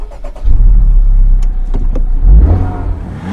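A 2023 Honda Civic Type R with a 330 hp engine fires up with a short whir and settles into a deep, loud, close idle rumble, followed by a brief rise in revs near the end.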